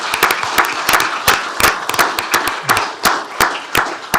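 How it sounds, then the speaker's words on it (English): A small audience clapping in a county commissioners court meeting room, close and loud, with distinct individual hand claps in an irregular, uneven patter rather than a dense roar, lasting the whole stretch. "Let's please give all those a round of applause."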